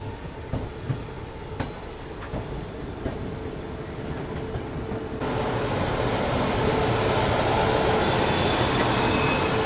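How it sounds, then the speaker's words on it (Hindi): The 12558 Sapt Kranti SF Express on the Anand Vihar to Muzaffarpur route, heard from inside a 2nd AC coach: a steady rumble of wheels with faint squeals, then a sudden louder rush as another Sapt Kranti Express passes alongside. "सप्त क्रांति एक्सप्रेस की मुलाकात हो रही है मुजफ्फरपुर आनंद विहार सप्त क्रांति एक्सप्रेस से।"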